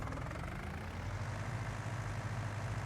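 Steady low engine drone from a farm machine in Farming Simulator 19, a continuous idling rumble held at even loudness throughout, with no talk over it.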